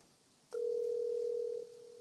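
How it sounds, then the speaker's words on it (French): A steady single telephone tone sounds on a phone line, starting abruptly after half a second of quiet and holding loud and unbroken for about a second before dropping slightly in level. "Docteur Benga, j'ai le téléphone, ça sonne"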